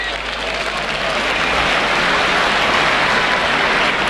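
A crowd roars at a Leeds versus Auckland rugby league match, a loud, steady wash of cheering and applause that holds without a break for several seconds.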